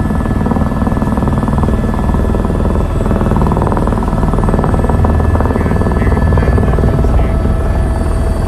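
Helicopter ride to Vegas, with a loud, close, continuous rotor thump and engine whine holding steady from start to finish.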